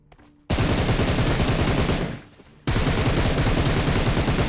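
Automatic gunfire in the PUBG Mobile battle royale game on the Erangel map, heard as two long, loud, rapid bursts with a short pause between them and no talking over them.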